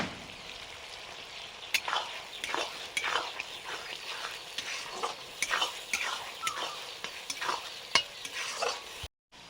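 Spice paste frying with water and chopped tomato in a pan for a meat dish, giving a steady close sizzle broken by repeated scraping stirs of a spoon against the pan, and a brief cut-off at the end.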